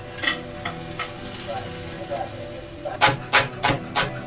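Grated coconut, cumin, cinnamon, cloves and cardamom dry-roasting in a pan for an egg curry, with soft stirring scrapes that build into a cluster of sharper, quicker scrapes toward the end.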